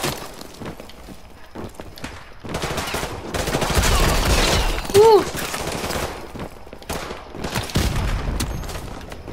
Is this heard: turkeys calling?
no